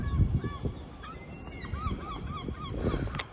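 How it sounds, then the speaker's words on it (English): Seagulls call around a harbour as a fishing boat comes in, with repeated short squawks near and farther off over a low, steady background. "Our friendly seagulls are all around us."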